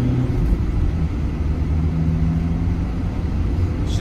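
A 2017 Ford Transit 2.2L van with a six-speed manual accelerating hard in second gear, heard from inside as a loud, steady low engine rumble and road roar that holds constant throughout.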